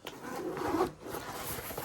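An AquaGuard zipper slides open on the back tech compartment of a Minimul M38 travel bag, making a close, rasping pull that lasts about a second, then a brief pause and softer fabric rustling.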